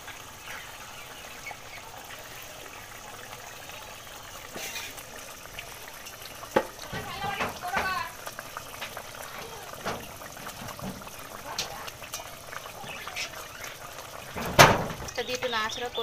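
Fish fry in a pan over a medium gas flame, giving a steady, moderate sizzling hiss broken by scattered crackles and pops.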